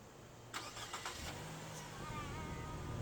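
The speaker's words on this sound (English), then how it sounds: "So you start your car." A car engine cranks with a few quick turns, catches and settles into a steady idle, heard fairly close with no talking.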